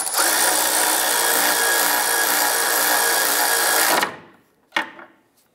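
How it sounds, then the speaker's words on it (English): A power tool drives an 18mm socket to tighten the lower sway bar end link nut on a 2011-2019 Ford Fiesta, producing a loud, steady whir for about four seconds that stops abruptly, followed by one brief clack. "Using an 18mm socket, we're going to go ahead and tighten up the lower end link nut."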